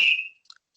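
A single referee-style whistle blast sounds loud and close, held steady for about a third of a second before fading, followed by a few faint brief chirps.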